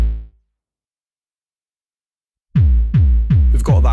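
A sampled hit from the Evolution Devastator virtual instrument, retriggered with a fixed sample start: one decaying tone, a pause of about two seconds, then four identical loud strikes in quick succession.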